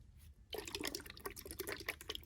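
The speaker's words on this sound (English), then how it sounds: "Pushing water heart." A pushing water heart fidget toy gives wet, liquid squishing and sloshing with small drip-like pops as it is pressed, close and steady for about two seconds, with no voices.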